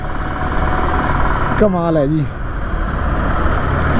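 Heavy traffic jam in Ludhiana heard from a Platina motorbike stuck amid construction: a steady, loud roar of engines and road noise throughout, with someone speaking briefly over it.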